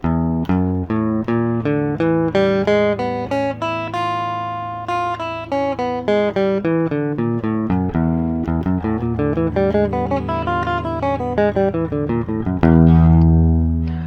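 Steady single notes picked on an electric guitar in an even alternating rhythm, moving up and down a pattern, ending on a sustained chord.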